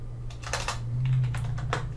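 Computer keyboard typing, a quick run of close, crisp key taps in uneven bursts over a low steady background hum, with no talk.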